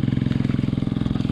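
A heavily modified 'keuyeup' crab-style offroad motorcycle chugs close by in a rapid, steady, loud rhythm with no clear rise in pitch.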